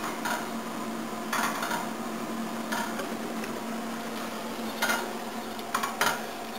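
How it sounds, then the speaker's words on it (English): A wire whisk stirs cream cheese sauce in a pot, making repeated metallic clinks and scrapes against the pot with a steady low hum behind them. "If you use your wire whisk for this process, it'll speed it up and ensure that you don't end up with any lumps in your sauce."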